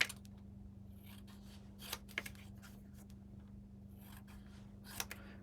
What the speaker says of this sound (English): So now what I'm going to do is cut these